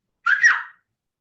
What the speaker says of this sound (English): Like one quick whistle